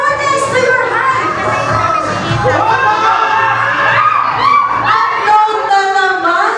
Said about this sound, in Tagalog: Napakalakas sigaw ng team unknown